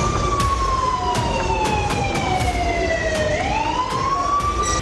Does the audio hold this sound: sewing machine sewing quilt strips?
no